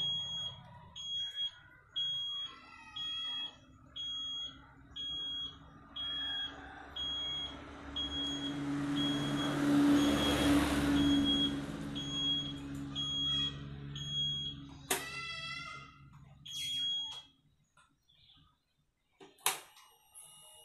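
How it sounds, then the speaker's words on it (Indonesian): A custom anti-theft alarm fitted to a Honda CB150R motorcycle sounds off loud and close, with repeated beeping tones and a rising siren wail that then breaks into rapid chirps before stopping. "dalam jangka waktu 12 detik maka motor akan berteriak dan lampu sen keempat-empatnya akan menyala"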